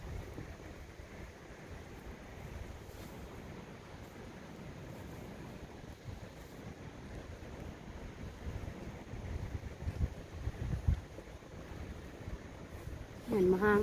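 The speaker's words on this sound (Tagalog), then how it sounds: "Yan, mahangin pa." Steady wind blowing through a snowstorm, a continuous low rumbling roar with gusty buffeting close to the microphone, growing stronger toward the end where a short voice cuts in.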